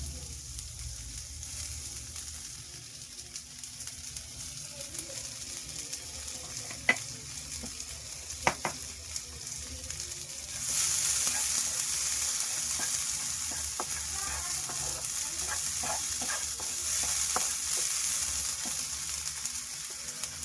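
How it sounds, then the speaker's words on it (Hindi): Onion and green chilli frying together in a pan while being stirred give a steady close sizzle that swells louder halfway through, with scattered sharp clicks of a utensil against the pan. "प्याज और हरी मिर्च दोनों साथ में डाल दी।"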